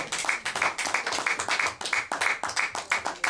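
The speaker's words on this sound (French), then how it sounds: "Let us clap again for the Lord." A church congregation claps together in rhythmic unison praise, steady evenly spaced claps about three per second, close and full, with no talking over them.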